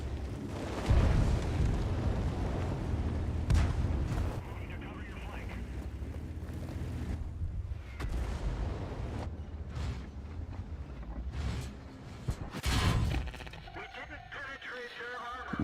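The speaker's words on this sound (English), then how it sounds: "Super Hellcat shooting now from back there on the rubble piles" Super Hellcat tank firing in World of Tanks from the rubble piles: a few dull booming shots and rumbling battle noise under steady talk, with one louder blast late on.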